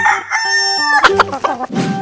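A rooster's cock-a-doodle-doo from a 3D animal slide game rings out loud and near, one drawn-out crow with clucking tones, over bright game music.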